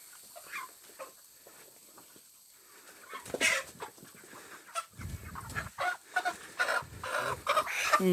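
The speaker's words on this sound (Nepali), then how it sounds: "कुखुरा रहेछ" Chickens cluck on a village farm, with short calls scattered irregularly through the clip that grow denser and louder toward the end over faint background noise.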